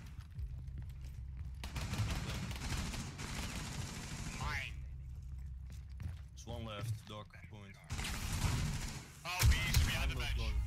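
Gunfire from the video game Rainbow Six, several loud bursts of shots in rapid clusters separated by short gaps, with excited voices talking between and over them.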